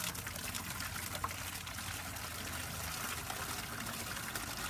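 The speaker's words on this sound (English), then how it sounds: "I'm going to go ahead and fill up another bucket" Water running into a bucket being filled for rinse water during pond filter cleaning, a faint, steady pouring trickle that continues evenly throughout with no one talking.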